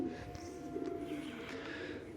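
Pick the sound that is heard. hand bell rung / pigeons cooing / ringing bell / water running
pigeons cooing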